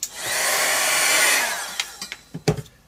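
A hair dryer blows over wet paint on an art journal page, a loud steady whoosh lasting about a second and a half before cutting off, followed by a few soft taps and handling knocks.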